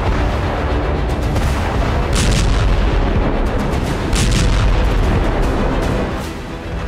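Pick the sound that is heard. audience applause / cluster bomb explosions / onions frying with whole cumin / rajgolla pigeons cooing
cluster bomb explosions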